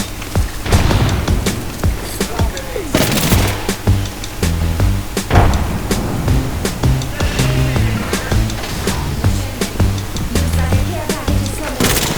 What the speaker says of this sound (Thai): เออระเบิด